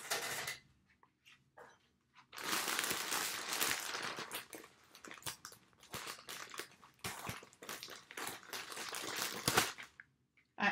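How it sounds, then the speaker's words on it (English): Scissors snip and crinkle through the plastic of a yarn package, a series of close, sharp crunchy cuts and rustles with short pauses between bursts. "My scissors."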